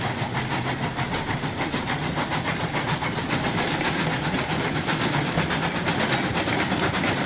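A train running along track in the video game Railroads Online, a steady loud rumble with a regular clickety-clack rhythm and a hissing background, no talking.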